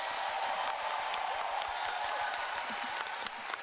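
A fan fest keynote audience applauds steadily in a dense, even wash of clapping that holds throughout, with scattered sharper claps near the end and no voices over it.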